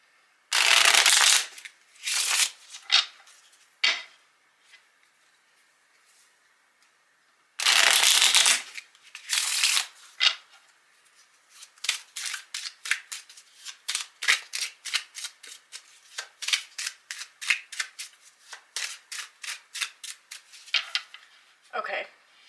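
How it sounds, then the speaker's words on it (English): Playing cards are riffled in a few loud bursts, then a long run of quick, crisp flicks and taps as the deck is shuffled close by. "So we're going to give these a good shuffle."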